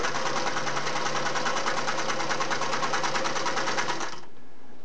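A Singer 401A sewing machine runs fast with twin needles fitted, producing a steady, close, loud mechanical whir for about four seconds before it stops abruptly, leaving only faint hum.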